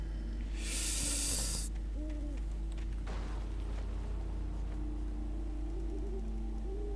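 Birds in the Alan Wake video game: a burst of bright, hissing flutter followed by low hooting calls scattered over a steady low drone, fairly faint and with no talking.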